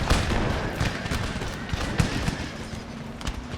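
Massed musket volleys crackle in an Empire: Total War battle as Swedish cavalry charges into a wall of fire, with sharp reports overlapping steadily across a dense, continuous din of battlefield noise.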